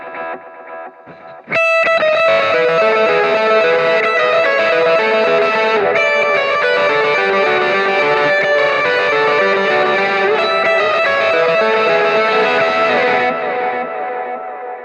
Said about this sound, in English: Here's an example using a quarter note delay with a dotted eighth delay at the same time.